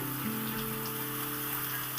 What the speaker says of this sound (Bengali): দেখুন সুন্দর করে ফোড়নটাকে ভেজে নেব ফোড়নটা ভাজা হয়ে গেছে